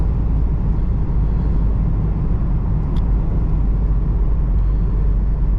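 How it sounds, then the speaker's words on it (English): Steady broadband road and wind roar inside a 2016 Mazda MX-5 Miata soft top cruising on the highway, loud and constant throughout with no talking. "on the highway, this car has a decent amount of road and wind noise"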